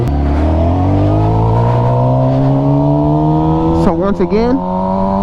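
A motorcycle engine revs at full throttle during a power wheelie, a loud, steadily rising drone that builds continuously, with someone speaking briefly near the end.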